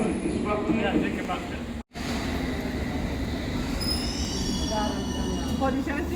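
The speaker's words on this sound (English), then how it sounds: "Okay, that's not my train" A London Underground District line train at Gloucester Road station, with steady rumbling rail noise and high wheel squeal throughout, a brief dropout midway, and station announcements or voices faintly underneath.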